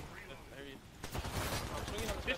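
Gunfire in Apex Legends during a competitive ALGS scrim match, a dense burst of shots in the second half following quieter game sounds, with players talking over the action.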